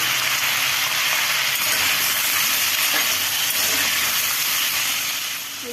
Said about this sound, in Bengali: আলু এগুলো একটু ভাজা ভাজা করে তুলে নেব